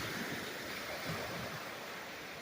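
Waves and breakers at Whitefish Point on a still, foggy morning: an even, continuous wash of surf, steady and moderately loud with no distinct individual crashes, and no voices.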